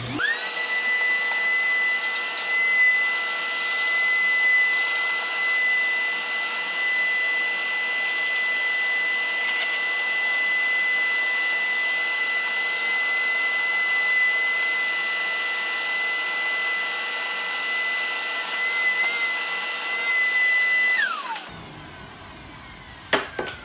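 A vacuum cleaner drones steadily at close range with a high whine, running without pause for about twenty seconds before switching off and winding down.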